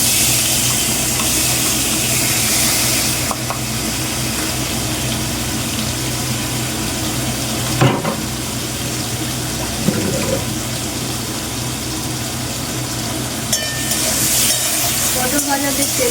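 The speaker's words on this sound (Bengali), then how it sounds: "পটল ভাজা যে তেলটা বেঁচেছিল ওইটা দিয়ে আমি মাছটা ভেজে নিচ্ছি।" Fish frying in oil left over from frying pointed gourd, giving a steady, fairly loud broadband sizzle that runs without a break, with a few faint clinks from the pan.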